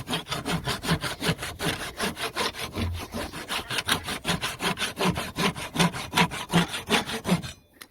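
Steady back-and-forth strokes of a hand saw cutting wood clamped to a bench while bracing a cow panel greenhouse, a close, even rhythm of about two strokes a second that stops abruptly at the end.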